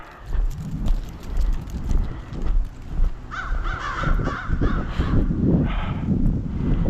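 Crows caw repeatedly outdoors on a walk in Maine, harsh calls rising over steady footsteps and ambient street noise, moderately loud and fairly near.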